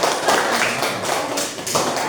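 Hand clapping in a classroom lesson, a steady run of sharp claps repeating across the whole stretch, loud and close, with no talk over it.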